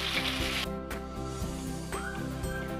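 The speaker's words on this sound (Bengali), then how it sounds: "তারপর পেঁয়াজটাকে গোল্ডেন ব্রাউন করে ভেজে নেব।" Two medium onions sizzle steadily in hot oil, frying toward golden brown for a mutton korma, with a constant close hiss and occasional stirring scrapes throughout.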